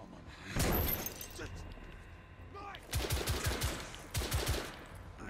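Heavy shotgun blasts from The Order: 1886, a coach gun, in two close bursts of three or four booming shots each, separated by a stretch of quieter combat ambience with a voice talking.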